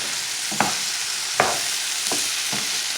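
Potatoes and sausage frying in a pan give a loud, steady hiss of sizzling fat with a few soft stirring knocks, close up and without talk.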